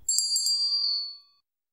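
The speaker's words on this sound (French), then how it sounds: "abonnez-vous et cliquez sur la cloche." A single bright bell-like ding used as a subscribe notification sound effect, ringing out clearly and decaying over about a second, alone with no voices.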